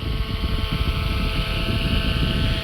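A Fimi X8 SE drone passes directly overhead, giving a steady, fairly loud rotor buzz and whine that holds throughout without fading. No voices are heard.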